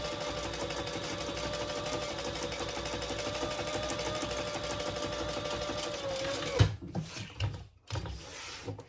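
A sewing machine basting fabric pieces of a crossbody bag runs in one continuous steady whirring stitch for several seconds, then stops with a few clicks and handling knocks as the fabric is shifted, close and with no speech.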